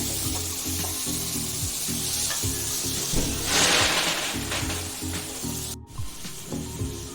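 Tomatoes hit a hot pan with loud, steady sizzling and frying hiss, stirred close up, with no voices.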